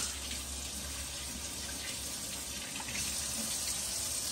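Hands being washed under a running kitchen tap, a steady close hiss and splash of water pouring into a sink, continuous throughout with no talk.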